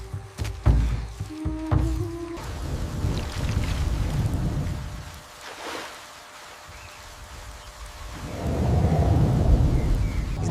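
A heavy downpour with thunder on open grassland: rumbling thunder and steady rain hiss, with a quieter lull before the rain swells again to a loud, close roar.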